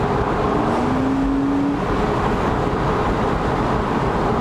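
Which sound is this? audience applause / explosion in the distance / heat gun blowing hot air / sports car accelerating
sports car accelerating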